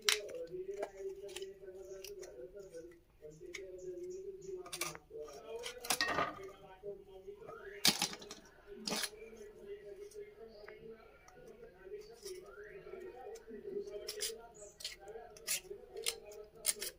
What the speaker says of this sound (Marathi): आधी सर्व कापून घेऊया.